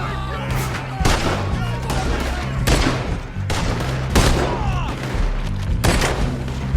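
Gunfire in Red Dead Redemption 2, repeated loud shots and bursts at irregular intervals over a busy battle scene, with voices shouting in between.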